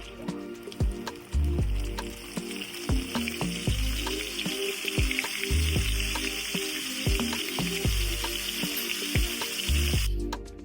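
Battered fish fillets dropped into hot oil for LA-style fried fish, a steady broadband sizzle and crackle with repeated low thumps and clatter of handling throughout, fairly close and loud, no voices.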